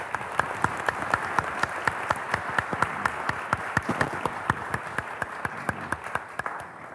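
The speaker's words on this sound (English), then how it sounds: "let's give him a hand and applause of welcome." Rhythmic, steady clapping from a forum audience welcoming a speaker, sharp claps repeating evenly over a background of broader applause that tapers slightly at the end.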